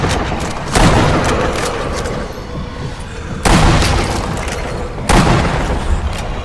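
Three loud, close sniper rifle shots fired at zombies in the Zombie Army shooter game, each a sharp boom followed by a short fading tail, spaced a couple of seconds apart.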